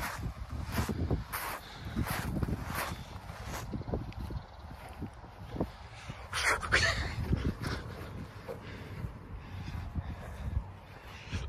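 A small dog whimpers and yips in repeated short bursts close by, set amid rustling in long grass, with a quiet voice briefly underneath.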